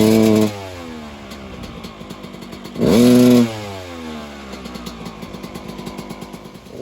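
A Suzuki RM250 two-stroke motorcycle idles with a raspy, popping note, then blips once sharply to a high rev before dropping back to a burbling idle.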